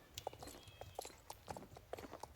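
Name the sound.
horse hooves galloping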